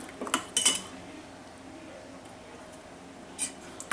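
A spoon stirs milk and unsalted butter in a pan, with a few sharp metallic clinks against the pan separated by quiet stretches.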